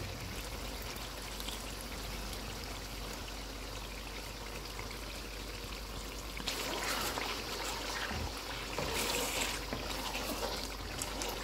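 Cream is poured into a Lahori mutton karahi, making a soft, faint trickling pour that grows a little fuller and louder in the later seconds.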